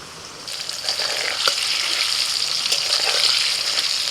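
Large chunks of salted potato frying in hot oil for Bengali aloor dom, a loud, steady, close sizzle that swells after a quieter start and crackles continuously with no talk.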